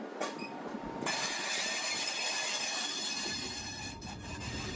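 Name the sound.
freight train passing a level crossing in Shanghai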